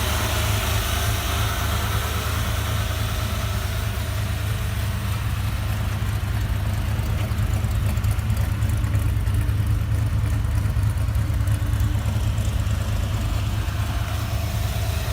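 A restored 1972 Ford Bronco engine runs steadily at close range, a constant low rumbling idle with a mechanical rattle that holds an even level throughout.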